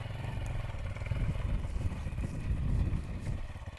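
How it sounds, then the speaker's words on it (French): Motocross motorcycle engine idling on a light, steady throttle while starting off, a continuous low rumble with slight surges, close by and fairly loud, with some wind noise. "Voilà, ça c'est un bon filet de gaz pour démarrer."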